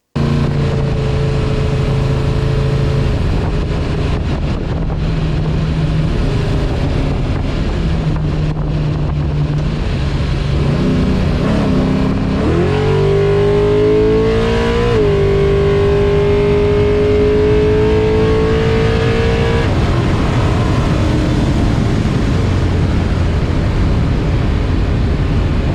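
An E85-fuelled car engine idles on the street, then revs and accelerates with rising pitch, loud and close over heavy wind rumble, easing back before climbing again.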